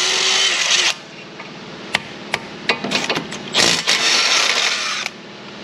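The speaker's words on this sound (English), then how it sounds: "let's go ahead and get the caliper unbolted" Brake caliper bracket bolts being unbolted on a car's steering knuckle: sharp metallic clanks and knocks at irregular intervals, close and fairly loud, with a steady mechanical hum in the background and between the hits.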